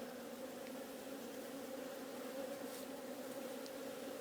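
Steady, loud drone of honey bees buzzing around an open hive during an inspection, a dense continuous hum with a few bees zipping close past.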